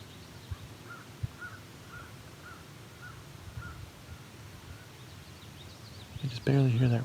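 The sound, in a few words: crow cawing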